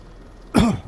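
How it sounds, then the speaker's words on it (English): A single short, harsh throat-clearing cough bursts out after a quiet stretch, close and fairly loud, ending with a faint rasp. "Sorry about the coughing. Throat's kind of iffy tonight."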